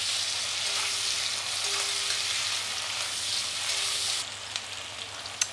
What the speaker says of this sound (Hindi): थोड़ा सा इसको भूनेंगे प्याज को।